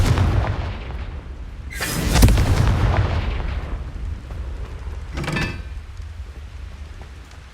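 A Confringo fire spell in Hogwarts Legacy bursts with a loud whooshing blast and booming impact, then a second, smaller crackling burst a few seconds later over low rumbling game ambience.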